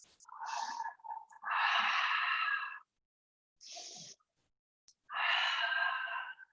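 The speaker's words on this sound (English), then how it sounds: "take 3 deep inhales and exhales" Slow, deep yoga breaths, two long airy inhale-exhale cycles with brief pauses between, close and clear with no talking.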